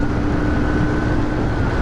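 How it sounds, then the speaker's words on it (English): A 2004 BMW R1150R motorcycle engine drones steadily while riding, a constant low mechanical hum with a faint tonal whine mixed into wind rush, sustained and fairly loud with no voices. "You might be able to hear the motor more than the exhaust."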